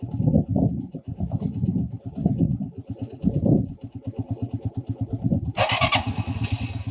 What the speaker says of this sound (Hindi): आहो, रेस ज़्यादा दे दी मैंने।